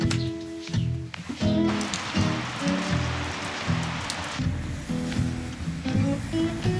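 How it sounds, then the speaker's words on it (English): Rain patters on a surface around a bus stop in Bergen, Norway, a steady wet hiss under scattered knocks and clunks of nearby activity, fairly close and continuous throughout. "and it's raining again."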